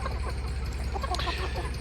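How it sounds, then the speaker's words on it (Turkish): Several chickens cluck close by in a busy, overlapping chatter, a steady farmyard murmur throughout. "Şimdi tavuklara yemlerini verdik arkadaşlar"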